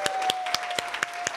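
Sparse, separate claps from a small audience at a faculty presentation, a handful of distinct hand strikes spaced unevenly over a second and a half, with a faint steady tone in the background.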